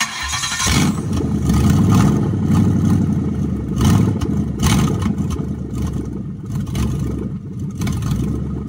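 A Lincoln Town Car with 933k miles cranks and fires up, its engine revving loudly and roughly with surging throttle bursts, close and continuous throughout.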